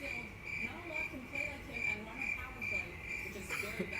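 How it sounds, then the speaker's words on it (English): Crickets chirp in a steady repeating pulse as a sound effect, a bright pulsing trill with faint voices murmuring underneath. "play the crickets all you want"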